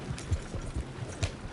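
Quiet hoofbeats clop along in an uneven rhythm, several soft thuds over a low background hum.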